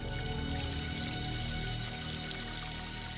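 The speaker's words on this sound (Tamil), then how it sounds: "டேப் திறந்திருக்கா? தண்ணி சத்தம் வந்துட்டே இருக்கு." Steady rushing water pours without a break, a constant close hiss like a running faucet filling a sink.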